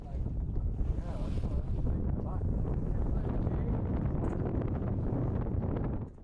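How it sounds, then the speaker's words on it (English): Strong wind buffets a sailboat at sea off remote Cuba. The roar is steady and loud, heavy rumbling wind against the microphone with the rush of water beneath it, and it drops away just at the end. "The wind direction was actually in our favor, and blowing strong enough to get us through the Pasa de Quitasol."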